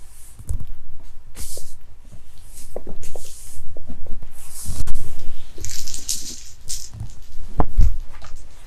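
Scattered light clattering and slapping of cards falling onto a surface, irregular taps and flutters with a few sharper hits near the end, close by.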